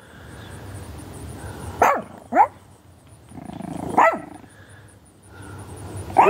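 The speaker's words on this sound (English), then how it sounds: "What are you barking at?" A dog barks several times at close range, sharp single barks spaced a second or two apart over low background noise.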